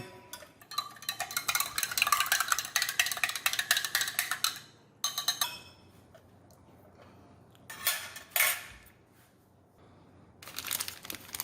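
Plastic spork scraping and stirring meatballs in marinara sauce inside a Zombie Z MRE ration pouch, with bursts of crinkling, scraping packaging noise, close and fairly loud, separated by brief quiet gaps.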